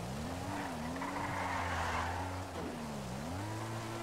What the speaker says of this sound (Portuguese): Tô subindo a moto.